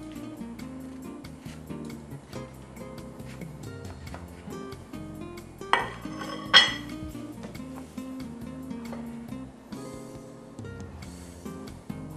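Deep dish pizza pie being plated up, with scattered clinks of dishes and cutlery and a couple of sharper clatters partway through, close and moderately loud over a soft background.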